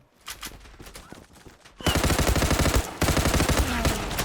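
Rapid, dense gunfire from a pump shotgun in the online shooter Zula, a sparse run of shots giving way to loud, sustained overlapping blasts with no talk.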